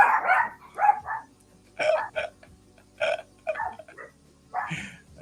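Several tiny dogs yip and bark in short, sharp bursts separated by brief pauses, fairly close and loud, with no talking.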